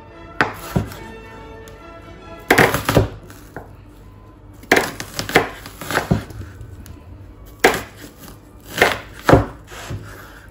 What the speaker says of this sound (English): I'm just going to chop down like this.